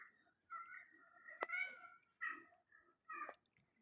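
A cat meows several times in short, plaintive calls with brief gaps between them, fairly quiet and otherwise alone.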